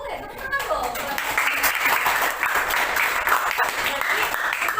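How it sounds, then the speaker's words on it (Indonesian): Students in a classroom clap together in a brisk, continuous round of applause lasting several seconds, close and fairly loud, with a few voices mixed in. "Tepuk tangan dong."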